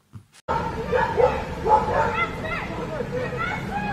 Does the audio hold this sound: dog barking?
yes